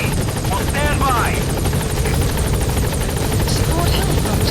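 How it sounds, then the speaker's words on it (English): A support helicopter arrives at a landing zone in Metal Gear Solid 5, with a loud, steady rotor roar and engine whine throughout and faint voices beneath. "Support helicopter has arrived."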